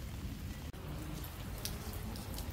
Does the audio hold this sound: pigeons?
no